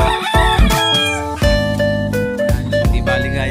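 Backyard roosters crowing, loud and close: several overlapping cock-a-doodle-doo calls follow one another in quick succession, with clucking hens mixed in.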